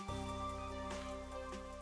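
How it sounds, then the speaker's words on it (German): Steady rain falls in the video game Master Detective Archives: Rain Code, a continuous patter over a sustained musical drone, with no speech. "Vielleicht liegt es am Regen,"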